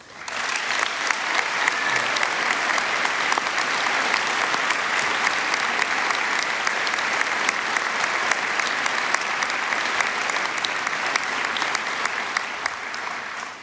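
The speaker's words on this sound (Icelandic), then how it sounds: "Við skulum gefa þessu myndarlega hópi gott klapp." An audience applauds graduates at a University of Iceland graduation ceremony, steady, dense clapping from a large crowd that fills the hall and continues evenly for over ten seconds before fading.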